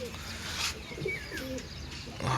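Pigeon coos from a racing pigeon, one of the birds released at a village pigeon-flying contest in Gaggarwal, Punjab, heard as soft repeated calls with a few chirps over steady outdoor background noise.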